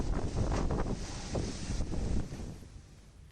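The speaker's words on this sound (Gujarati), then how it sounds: "ધોધમાર વરસાદ અને ભારે પવન ફૂંકાવાના કારણે" Strong wind buffets the microphone in loud gusts during unseasonal heavy rain in a village in Gujarat's Dang district, with a rushing rain hiss underneath, then eases slightly at the end.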